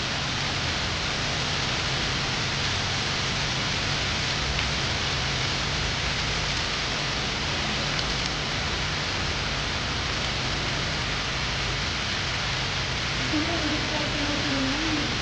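Steady, dense rain hisses throughout, an even broadband wash with no pauses, while muffled voices talk faintly underneath.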